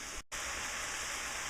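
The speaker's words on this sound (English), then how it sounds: "I'm just going to dump the veggies in and just saute them for a little bit" Vegetables sauté in hot oil in a pan, giving a dense, steady sizzle like light rain. A brief dropout breaks it near the start before the hiss resumes at a constant, close level.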